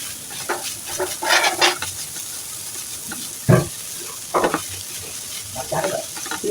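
Boiled helencha greens are stir-fried with garlic and onion in a pan, giving a soft steady sizzle broken by several sharp scraping bursts of stirring, close by with no voices.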